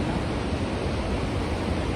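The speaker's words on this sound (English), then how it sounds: "Now, nothing voice, only my voice and the waterfall voice." A jungle waterfall in Cambodia roars as a steady, dense rush of falling water, loud and unbroken throughout with no voices.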